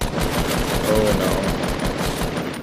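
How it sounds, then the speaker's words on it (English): Shotgun fire in Fortnite Season 7, a dense burst of rapid, loud gunfire sounds filling the short stretch, with game audio layered underneath. "Shotgun."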